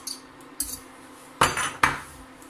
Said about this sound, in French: Hop là, j'en mets une deuxième partie. Et je mélange.